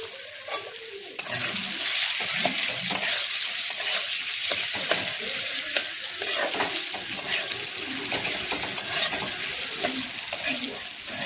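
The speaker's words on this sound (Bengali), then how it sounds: "ভালো করে এই আলুটাকে এবারে একটু ভাজা ভাজা করতে হবে।" Mashed boiled potatoes being stirred and fried in a pan for a crispy potato roll filling, a steady close sizzle with repeated scraping and clattering spoon strokes, no talk.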